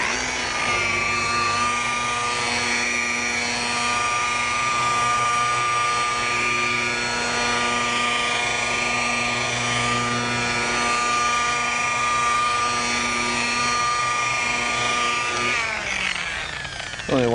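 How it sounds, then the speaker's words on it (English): A rotary buffer polishing car paint to remove sanding marks whirs steadily at close range with a sustained motorized hum and whine, then winds down near the end. "It's a nice rotary buffer."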